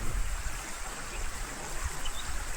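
A river flows steadily nearby, a dense, continuous rushing wash of water that stays even and unbroken throughout.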